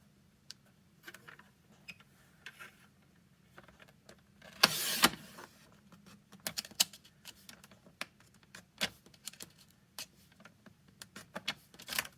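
Scissors or a trimmer cutting cardstock for a card holder box, producing a run of sparse, light ticking snips with one louder rustling crunch partway through, close and alone without talk.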